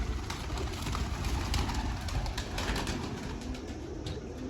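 Pigeons coo softly against a steady outdoor background hiss at a farm field, their low calls continuing throughout.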